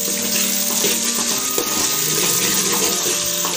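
Onions frying in a pan, a loud, close, continuous sizzle with a little stirring, holding steady throughout with no talk.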